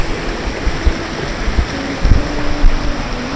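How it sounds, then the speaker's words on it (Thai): A forest stream from a waterfall flows past a rural school in Chiang Dao, Thailand, a steady rushing burble with soft low splashes, fairly close and alone. "ก็มีลำธารที่เราไปเล่นน้ำตกมาเมื่อกี้ไหลผ่านโรงเรียนครับ"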